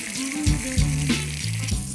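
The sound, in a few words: bacon and burger buns frying in oil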